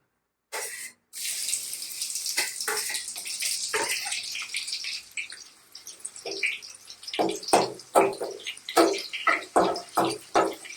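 Garlic dropped into hot sesame oil while making dried mango pickle, with a loud, steady sizzle that breaks into sharp crackling pops toward the end. No one speaks.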